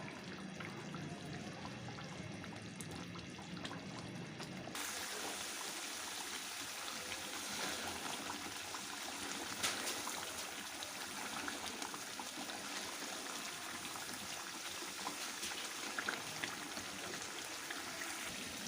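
Pakistani chicken karahi cooking down over a high flame, a continuous bubbling, sizzling hiss as its liquid dries, steady and close with no talk.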